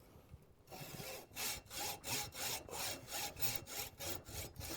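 A hacksaw cuts through the parts for a cabinet door bolt with an even back-and-forth rhythm of about a dozen rasping strokes, close and clear, after a short quiet start.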